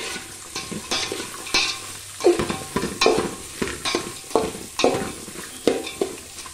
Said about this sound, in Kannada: ಸೊ ಇವು ಹಾಕಿದ ನಂತರ ಅವು ಎಣ್ಣೆಯಲ್ಲಿ ಚೆನ್ನಾಗಿ ಫ್ರೈ ಆಗುತ್ತೆ